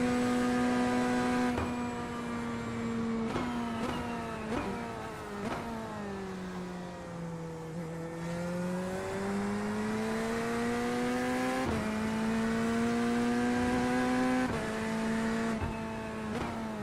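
A race car engine in the sim racing game iRacing drones steadily with repeated gear changes and rising and falling revs, clear and unbroken for the whole stretch.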